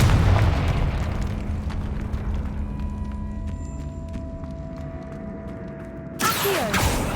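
A Confringo blasting spell explodes in the game Hogwarts Legacy, a deep booming burst that rumbles and decays over several seconds before a sharp crackling hit near the end.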